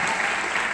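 A group clapping together at a college talk, a short steady patter of many hands, fairly loud and even throughout with no voices.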